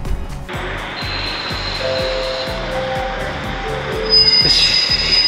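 Local train at Hakodate station, wheels squealing with sustained high-pitched screech over rhythmic rail clatter, loud and close, rising sharper near the end; no talking.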